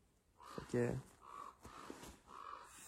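Crows cawing in the background during a crow hunt, a few harsh calls at moderate distance over breezy outdoor noise, with someone talking nearby.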